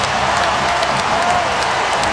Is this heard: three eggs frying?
no